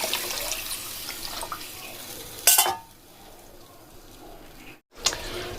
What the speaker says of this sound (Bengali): দিয়ে দেবো প্রয়োজন মতো জল।